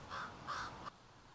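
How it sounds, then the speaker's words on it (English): A crow caws twice in quick succession, clear and fairly close, then falls silent. "the crow flies up above, back and forth"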